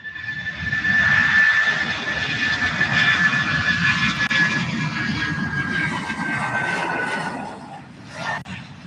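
A jet airliner passes at Louisville SDF airport with a loud, sustained engine roar and whine that swells early and slowly fades.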